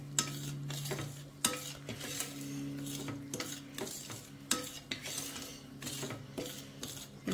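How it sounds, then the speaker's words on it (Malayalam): Semolina (rava) is stirred and roasted in ghee for a sweet, giving soft, rhythmic scraping strokes over a low, quiet background hum, with no voices. "നമ്മളിപ്പം എന്തായാലും നെയ്യിൽ ഇങ്ങനിട്ട് വറുക്കുന്നത് കൊണ്ട്"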